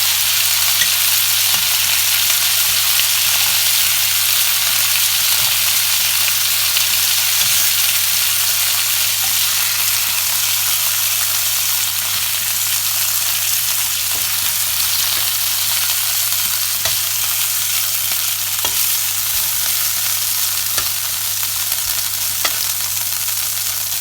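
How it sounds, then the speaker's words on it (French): Browned lamb pieces sizzle in a cooking pot with a continuous, even frying hiss and small scattered pops and crackles throughout, close and steady, with a low hum underneath and no talking. "Alors mes morceaux d'agneau sont bien rissolés,"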